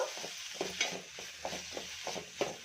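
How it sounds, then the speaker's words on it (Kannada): Onion and tomato frying in a pan for a green pea curry, a steady sizzle broken by regular scraping stirs of a spoon, close and moderately loud. "ಇವಾಗ ಈರುಳ್ಳಿ ಟೊಮೊಟೊ ಚೆನ್ನಾಗಿ ಫ್ರೈ ಆಗಿದೆ"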